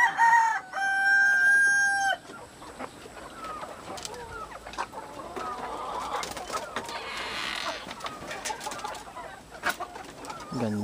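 Parawakan breed chickens crow loudly close by at the start, then cluck and chatter in a busy poultry yard with other birds calling around them.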